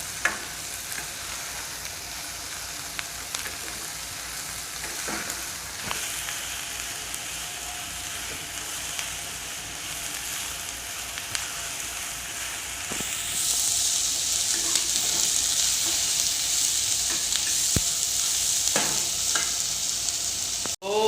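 Paneer, capsicum and onion sizzle steadily in a pan, a continuous close frying hiss broken by scattered clicks and scrapes of stirring, growing louder and brighter about two-thirds of the way through.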